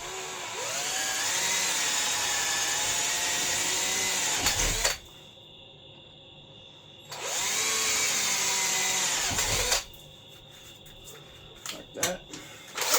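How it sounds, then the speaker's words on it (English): A power drill bores at an angle through the stock side cover of a mini bike, two sustained whining runs of about five seconds each, close and loud, separated by quiet pauses with small handling clatter. "so I'm going to drill it at an angle"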